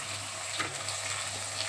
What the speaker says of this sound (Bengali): টমেটো একটু ভাজা ভাজা হোক